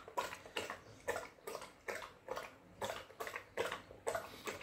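Golden retriever lapping beef broth from a bowl, a close, rapid, regular series of wet slurping laps, about two per second, with no talk.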